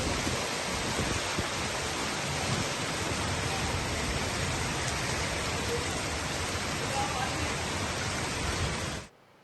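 A heavy evening downpour during record rainfall in Telangana makes a dense, unbroken roar of rain that holds steady and then cuts off abruptly near the end.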